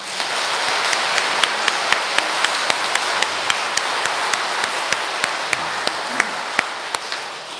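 A church congregation claps steadily and warmly to welcome newcomers at Mass, many hands together, with crisp regular clap peaks sustained throughout at close range.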